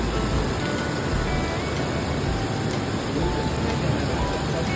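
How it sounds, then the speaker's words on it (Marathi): Rain falls at a riverside temple, a steady, dense hiss of drops across the whole span, close and evenly loud with no clear breaks. "पाऊस सुरू झाला."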